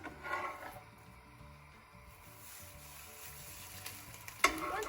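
Steady, soft sizzling of French toast frying in a pan, with a faint scrape or clink near the end.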